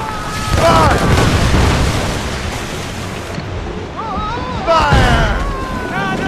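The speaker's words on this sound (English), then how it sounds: "Use the mortars on her!" Cannon and mortar fire in Assassin's Creed Rogue during a naval sea battle: heavy booming blasts and broad rumbling surf-like roar fill the scene, with shouted voices breaking through in bursts.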